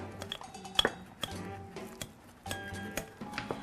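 Knife finely mincing vegetables on a cutting board, sharp chopping taps in uneven bursts with occasional clinks of utensils, close and clear.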